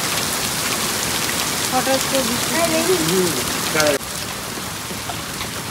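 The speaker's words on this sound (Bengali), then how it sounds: "প্রচন্ড বৃষ্টি হচ্ছিল, তার সঙ্গে সঙ্গে শিলও পড়ছিল।" Heavy rain pouring with hailstones falling, a dense steady roar of drops hammering surfaces up close, with a person speaking briefly over the downpour midway through.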